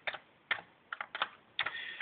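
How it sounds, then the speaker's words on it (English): Keys clack on a Commodore 64 keyboard as a command is typed, a handful of quick separate taps and short bursts, close and fairly quiet, with no voices. "what I'm doing at the moment is, you probably can't see that, but I'm just typing in"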